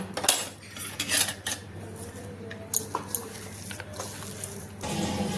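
A spoon scrapes and clinks against a bowl while paneer paratha filling with chilli flakes is mixed. The taps are soft and irregular, and the scraping is light and close.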